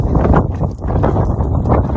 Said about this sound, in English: So it is so windy.